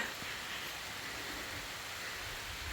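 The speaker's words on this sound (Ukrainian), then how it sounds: "І розпочався знову величезний дощик" Heavy rain pours steadily on a dacha garden, a continuous soft hiss with no breaks, fairly faint and even, with no voices.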